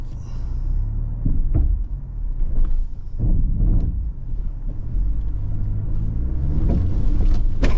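A 2023 GMC Canyon AT4X pickup crawls over a loose, bumpy off-road surface, giving a low rumbling drive with repeated thumps and jolts from the suspension and body, close and fairly loud.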